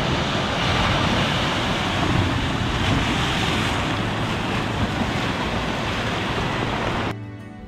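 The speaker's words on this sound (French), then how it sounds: "je vois arriver derrière la deuxième vague" Ocean waves break on a rocky shore in a steady, loud, continuous roar of surf that drops away abruptly just before the end.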